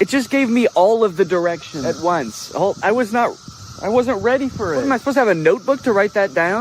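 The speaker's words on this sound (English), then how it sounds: "you know it's cicada season. It's the year of the cicada and they're everywhere." Cicadas buzz in a steady high drone outdoors in Illinois during cicada season, sitting faintly behind someone talking clearly and continuously up close.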